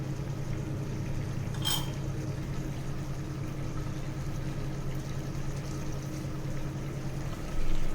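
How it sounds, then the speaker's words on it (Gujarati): Water poured into a pot of Gujarati-style mixed vegetable pulao, a low steady gurgling fill running throughout, near and even, with one brief metallic clink of the pot and a swell at the very end. "હવે આપણે તેના જોઈતા પ્રમાણમાં પાણી નાખીશું"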